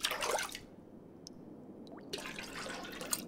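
Water sloshing and dripping from a toilet tank in the survival game The Long Dark, with a splashy pour, a quiet gap of single drips, then more trickling liquid, close and fairly soft.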